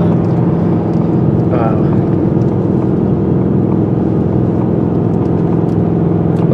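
Supercharged 700 hp Roush Mustang on a track cool-down lap, a steady loud engine drone and road roar continuing throughout while a voice speaks briefly over it.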